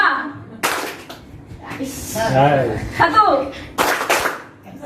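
Two loud hand claps during a classroom clapping game, a couple of brisk slaps set between lively voices of children and an adult talking and chuckling.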